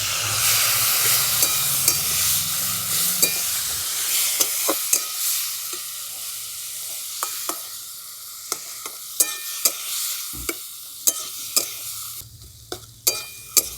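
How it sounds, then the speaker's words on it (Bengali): Spices sizzle loudly in a pan while being cooked down for a vegetarian dish, with a little water added; the hiss fades and gives way to repeated sharp scraping and clinking of a spatula stirring against the pan. "মশলাটা খুব ভালো করে ভাজা না হওয়ার জন্য বা কষে নেওয়ার জন্য আমি অল্প একটু জল দিয়ে দিচ্ছি"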